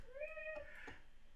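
A cat meows twice, a drawn-out rising-and-falling call followed by a shorter one, faint and with no talk.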